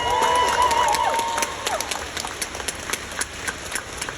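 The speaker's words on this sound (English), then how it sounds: "Give yourselves an enormous round of applause." Crowd of volunteers at a 9/11 Day service event in Minnesota claps, dense applause fading after the first second and a half into scattered, sparser claps, with a whistle-like tone near the start.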